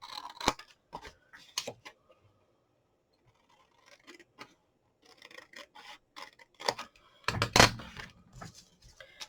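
Scissors snip through card in short, crisp cuts, irregularly spaced with quiet pauses, ending in a cluster of louder snips close by.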